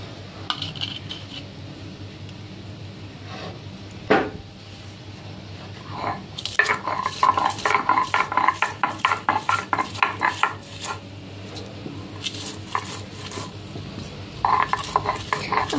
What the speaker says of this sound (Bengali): সবকিছু বেটে নেব।